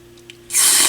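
Fader lube sprayed in one short hissing burst during cleaning of a 1960s Sonora S6410 portable tube turntable, close and loud after a couple of faint taps.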